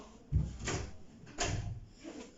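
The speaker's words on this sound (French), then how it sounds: "Qui a ouvert ma porte encore?" A door in a home swinging open, with two or three close clunks and creaking shuffles spread over a couple of seconds, fairly loud and heard alone.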